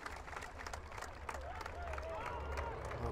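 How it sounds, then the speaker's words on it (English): Scattered applause rises from a crowd at a hurling final, with spectators' chatter and some talk mixed in throughout. "Good round of applause there"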